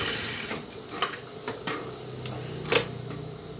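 Sewing machine stitching a side pocket seam all the way to the end, a close mechanical whir with irregular ticking clicks and a few sharper knocks, no voices.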